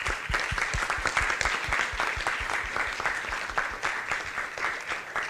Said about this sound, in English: I will ask you an applause for events division and Davide